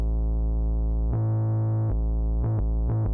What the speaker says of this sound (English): we still get a bit of what we call zipper noise